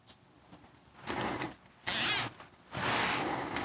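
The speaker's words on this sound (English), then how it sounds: "And shove the zip tie through." A zip tie is shoved through a small hole in a custom glazing tool, producing several raspy, scraping bursts of rubbing plastic, close and fairly loud with short pauses between pushes.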